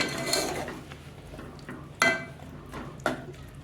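Spoon stirring kaju gathiya sabji with tomatoes in a metal pan on a gas stove, soft scraping with a few sharp clinks against the pan, close and without talk.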